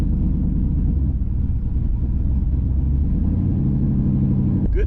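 A Chevrolet Camaro Z28 with a big cam idles with a deep, steady, lumpy rumble, loud and close, running continuously without pause.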